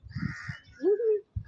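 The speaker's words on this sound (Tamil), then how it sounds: "மேல காக்கா." A crow gives one drawn-out caw outdoors on a sunny day, fairly close and clear, with brief low background sounds just before and after.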